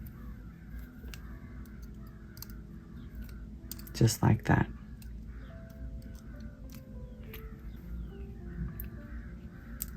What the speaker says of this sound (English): There must be more than one crow because they're sure making a lot of noise.